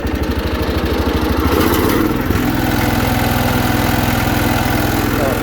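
A 1979 Case 224 hydrostatic riding lawnmower engine is throttled up, its low chugging idle rising into a faster, steadier drone that holds loud and close without any voices.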